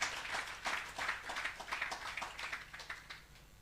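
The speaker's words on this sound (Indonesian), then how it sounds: "Tepuk tangan buat Tuhan." A church congregation claps together, quiet and somewhat distant, with a rhythmic run of hand claps that slowly fades toward the end.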